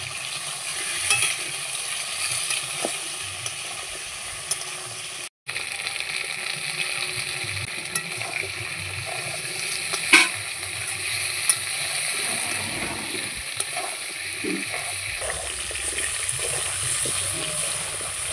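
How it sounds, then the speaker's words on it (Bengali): Elephant foot yam chunks fry and get stirred in hot oil with turmeric, a steady close sizzle running throughout with occasional scraping knocks and one brief cut to silence. "মেটে আলুগুলো দিয়ে এবার একটু হলুদ গুঁড়ো দিয়ে মেটে আলুগুলো ভাজা করে নেব"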